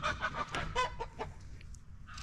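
Chickens clucking outdoors, a quick run of short, excited clucks close by that trails off into fainter scattered calls, with no talking.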